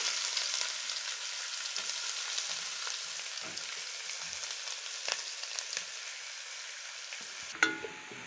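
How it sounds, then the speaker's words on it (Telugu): Thinly sliced onions fry in hot oil for a gongura chicken biryani, giving a continuous soft hiss and crackle with occasional light stirring scrapes and one clink near the end, fairly quiet and with no speech. "మనం సన్నగా కట్ చేసి పెట్టుకున్న ఎర్రగడ్డలు ఈ ఎర్రగడ్డల్ని బాగా ఫ్రై చేసుకోవాలి"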